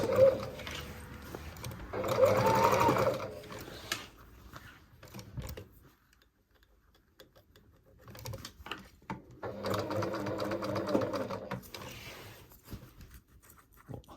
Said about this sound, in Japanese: で次は横糸を軽く押さえていきます。